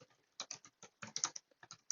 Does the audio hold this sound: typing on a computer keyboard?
yes